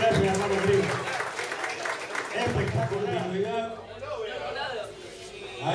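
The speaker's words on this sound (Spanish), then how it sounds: "Renovamos el aplauso bien arriba, a ver." A peña folk-music night audience applauds steadily while an emcee speaks over the clapping and crowd chatter, fading slightly toward the end.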